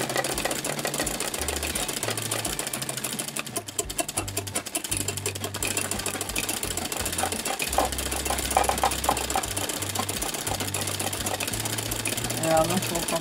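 A sewing machine stitches a straight-line princess embroidery onto a cushion, its steady mechanical whir running continuously at close range while someone talks over it.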